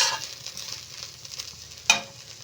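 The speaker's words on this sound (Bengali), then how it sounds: "এটাকে ভালো করে মিশিয়েই আমি গ্যাস বন্ধ করে দেবো" Cauliflower filling with salt and chopped coriander being stirred in a pan, soft sizzling under scraping strokes of a spatula, with one sharper clatter near the end.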